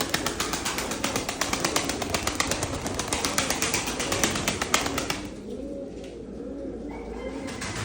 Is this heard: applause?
no